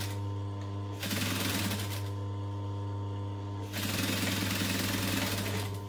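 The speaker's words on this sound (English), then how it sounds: "So I'm just going to stitch right next to the edge of the minion fabric." A sewing machine stitches close to the edge of Minion-print fabric for a backpack, running in two steady bursts with a short pause between, over a constant low motor hum.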